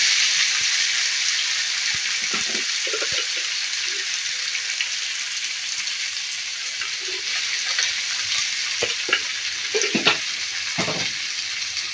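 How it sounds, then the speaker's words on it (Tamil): Tomatoes sautéing in a pan for cabbage sambar, a steady close sizzle with scattered stirring knocks and scrapes that grow busier toward the end. "தக்காளி சேர்த்துக்கலாம் நல்லா வதக்கிடுங்க"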